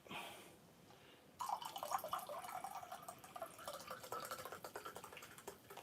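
A drink is poured into a glass, a continuous close trickle and splash of liquid that starts abruptly after a quiet moment and keeps running with a bubbly, dripping texture.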